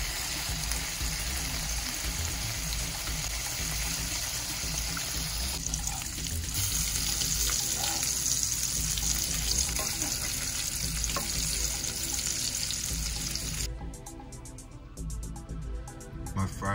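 Bacon frying in a pan while loaded hot dogs are being made, giving a steady, dense sizzle and crackle that runs the whole time and thins a little near the end.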